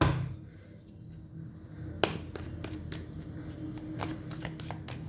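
Tarot cards are shuffled and drawn close up: a soft riffle at first, then a series of crisp card snaps and flicks in an uneven rhythm, with no talking.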